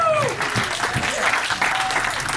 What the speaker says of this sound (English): Can I get a clap if you went number 1?